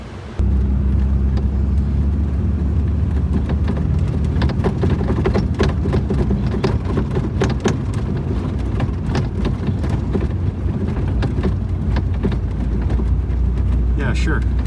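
A fake Lamborghini Countach replica idles with a loud, steady low engine rumble and a constant rattling, shaking hum, close up and continuous, with a voice talking over it.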